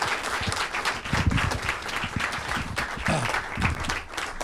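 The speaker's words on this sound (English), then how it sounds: "let's give a big round of applause" An audience giving a round of applause at a gathering, with steady, dense clapping from many hands, fairly close and loud throughout.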